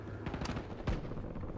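Gunfire in Call of Duty Warzone: a quick burst of several shots followed by one heavier report, fairly close and alone in a brief moment.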